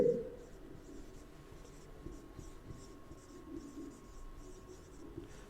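Pen scratching across paper while a journal entry for a goods purchase is written out, a soft continuous scribbling texture held steady at low level under a faint background hum.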